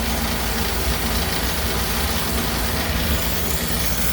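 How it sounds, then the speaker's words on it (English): A fan-driven waste oil burner heater for a shop runs steadily, its out-of-balance fan giving a constant loud mechanical drone with a faint rattle, no voices. "This one's got a little bit of a rattle because this fan's out of balance."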